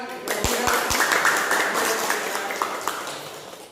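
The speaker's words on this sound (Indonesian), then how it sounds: "kita kasih tepuk tangan" A classroom of students claps after group presentations, a few sharp early claps swelling into moderate, fairly close applause that gradually thins out, with faint voices underneath.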